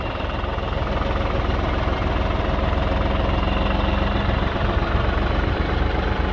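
A New Holland TT55B tractor engine runs steadily while compacting autumn silage, a close, continuous low rumble with a fast knocking pulse and vibration, with no voices.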